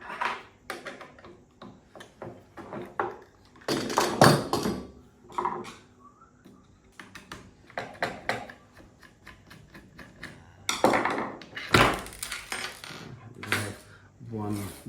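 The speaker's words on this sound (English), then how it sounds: "The first step is I'll take off the magazine." Plastic and metal clicks, clacks and rattles come from handling an AR-6 Stinger II crossbow and taking off its magazine, close and fairly loud in irregular bursts with quiet gaps between them.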